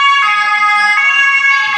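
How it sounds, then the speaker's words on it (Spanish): A loud ambulance siren sounding close by in a street in Trier, Germany, a continuous two-tone wail cycling steadily and dominating the clip without any talk. "Y esa es una ambulancia que nos está aturdiendo a todos."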